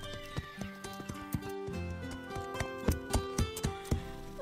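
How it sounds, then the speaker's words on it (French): Horse hooves clip-clopping in the Horseland cartoon, with regular, crisp trotting beats that grow more pronounced toward the end, set over sustained background music. "Zoé monte son nouveau cheval et elle ose le faire devant la pauvre Pepper"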